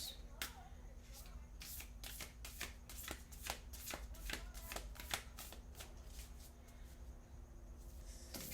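Oracle cards are shuffled in quick, crisp riffling bursts, a rapid irregular patter of papery snaps close by, faint and soft against a quiet room hiss.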